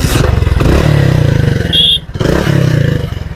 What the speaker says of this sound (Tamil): ஒரிஜினல் கம்பெனில இருந்து வந்து சைலன்சருங்க, ஒரு பீட் வேற லெவல்ல இருக்கு.